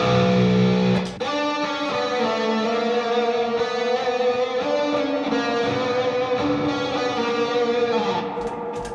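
Distorted electric guitar plays a sustained lead line with a washy reverb tail, loud and continuous with no talking.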